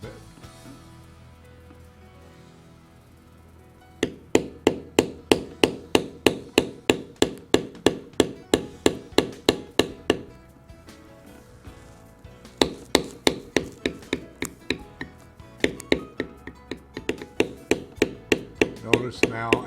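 Rapid, evenly spaced mallet strikes on a beveler tool working tooled leather around the outline of a carved big mouth bass, close and crisp, starting after a few seconds of quiet, pausing briefly, then resuming in a steady run.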